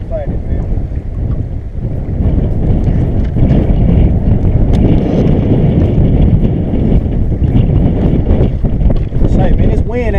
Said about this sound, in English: this wind ain't no joke